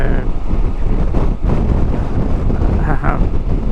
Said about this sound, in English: you can hear the wind now. I'm back in it. The wind really pierces everything.